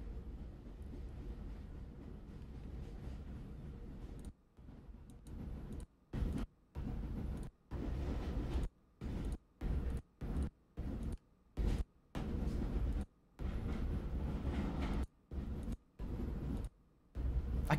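A steady low rumble of a train rolling along, broken repeatedly by sharp cutouts, giving a choppy, stop-start quality with no voices.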